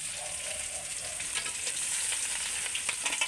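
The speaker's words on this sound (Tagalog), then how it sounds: "Ako ay nagpiprito ng isda" Fish sizzling and crackling in hot oil, a dense continuous frying hiss with scattered pops, close up and without talking.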